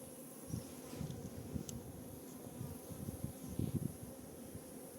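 Honeybees buzzing at a hive, a steady drone with bees zipping close past in short, louder bursts.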